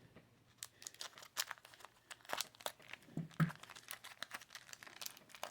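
Plastic wrapping on 1981 Donruss baseball card packs crinkles and tears as the packs are cut open, a quiet run of irregular close crackles and rustles with small clicks and no talk.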